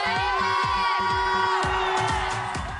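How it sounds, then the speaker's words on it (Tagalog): A television studio audience rising to their feet, shouting and cheering loudly in a sustained roar, with music playing underneath. "ngayon ko lang ulit nakita ang madlang people tumayo at sumigaw"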